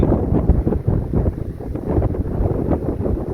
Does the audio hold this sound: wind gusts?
yes